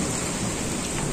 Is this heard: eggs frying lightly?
no